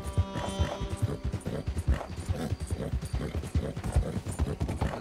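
Horse hooves clip-clop at a steady trotting rhythm in the Red Dead Redemption 2 video game, fairly close and moderately quiet, with faint ambient game sounds behind.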